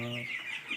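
A single short cluck from a chicken on a poultry farm, close and clear, with a soft hiss of farm ambience behind it.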